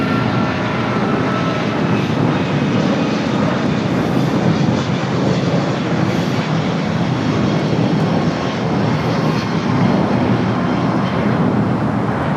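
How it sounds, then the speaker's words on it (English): An American Airlines Boeing 777 takes off at LAX, its jet engines giving a loud, steady, broad roar that holds for the whole stretch with no voices over it. "What you're hearing is that American 777 had taken off."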